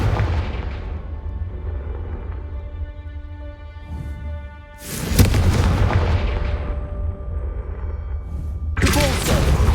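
In Hogwarts Legacy, the Confringo fire spell bursts with a heavy booming blast and a rumbling low tail, followed a few seconds later by another loud explosive impact, over a humming game background.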